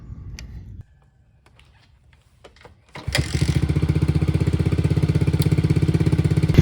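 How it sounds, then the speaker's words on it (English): After a few quiet clicks and handling noises, a Kawasaki KLX110 dirt bike engine, its carburetor freshly cleaned and adjusted, fires up and settles into a steady, rapid chugging idle, loud and close. "now it's already idling pretty good"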